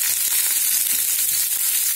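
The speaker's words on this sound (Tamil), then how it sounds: "சேர்த்து ஒரு 2 நிமிஷம் வதக்கினா போதும்." Finely chopped small onion and a sprig of curry leaves sauté in hot oil in a pan for masala rice, giving a steady, close, continuous crackling sizzle throughout, with no voices.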